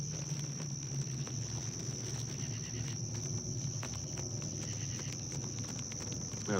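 A cricket chirping outdoors at night, a steady high-pitched trill that holds through the whole stretch over faint background noise, with no talking.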